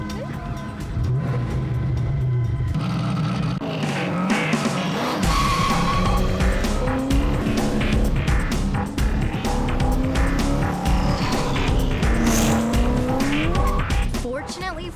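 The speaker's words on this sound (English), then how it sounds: "The sound, when you start the engine, rev the engine, and accelerate, is just, it's like this piercing sound" A Hennessey Venom sports car on a drag strip, its engine revving and accelerating with a piercing, rising whine and tire squeal, loud and close, while people talk over it.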